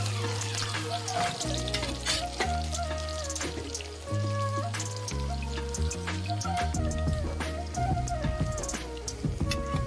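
Finely chopped onion and cumin seeds sizzle in hot oil for a soybean curry, a steady crackling fry that continues beneath prominent background music.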